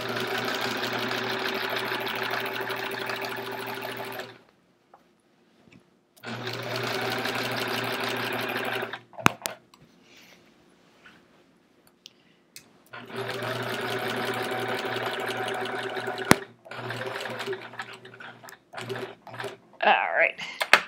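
A sewing machine with a walking foot quilts a chevron quilt, running loud and steady in three long bursts separated by pauses, with faint clicks and shuffling of fabric between runs.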